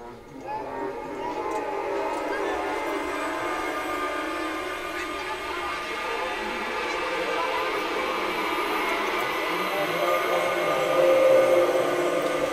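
Dense, noisy Omnisphere 2 synth texture run through aux rack effects, a sustained eerie wash with a hissing, whooshing edge that holds steady and swells slightly near the end, with no talk.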